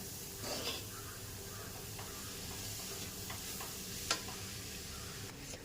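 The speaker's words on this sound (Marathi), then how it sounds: "आता हे पूर्ण एक जीव होईपर्यंत त्याला मिक्स करून घ्यायचं" Coconut barfi mixture stirred in a pan, a faint continuous scraping and sizzling hiss with scattered soft ticks and one sharp clink near the end.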